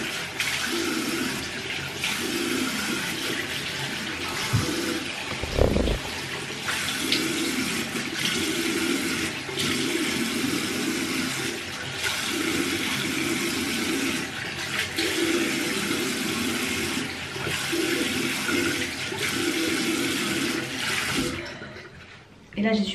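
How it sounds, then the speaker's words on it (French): Tap water runs steadily at a bathroom sink while someone rinses their face, a continuous broad splashing rush lasting the whole stretch with small interruptions as hands dip in and out. "Je rince."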